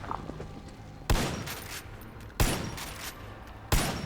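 Gunfire in the video game Far Cry 5: three loud, sharp shots land at roughly evenly spaced intervals, each trailing off into a noisy decay over a steady low background hum.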